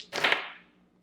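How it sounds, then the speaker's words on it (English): Several dice rolled together during a tarot reading make one short clattering burst that quickly fades, close and fairly quiet, with no one speaking. "we're just going to roll several dice here and see what other information we can get for you"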